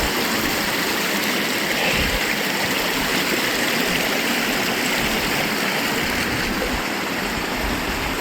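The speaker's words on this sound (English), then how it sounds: "Oh, we got another little tiny waterfall." Steady, continuous rush of falling water from a small waterfall in a rocky canyon in Alberta, broadband and unbroken throughout, close by with no voices.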